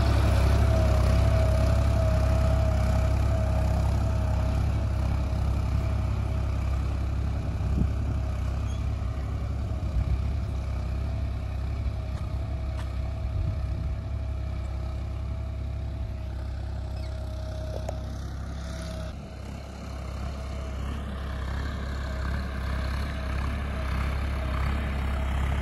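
A John Deere 5405 4WD tractor idles under no load with a tiller attached, giving a steady, low diesel rumble that holds throughout with a faint shift near the end, with no talk.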